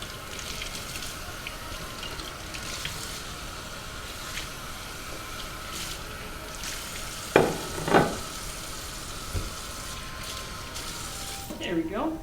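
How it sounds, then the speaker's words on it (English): A cut pineapple is rinsed under a running tap, with a soft continuous hiss of water, a couple of sharper splashing knocks midway and faint handling noises near the end. "I'm just going to give this a quick little rinse."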